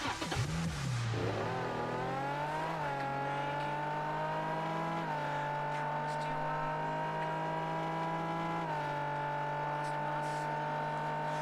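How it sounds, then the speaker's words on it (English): A Nissan 350Z engine, starting up and settling into a steady, humming idle that lifts in pitch a couple of times with light throttle blips, close and clear with no talk. "that is a brilliant sound of the car"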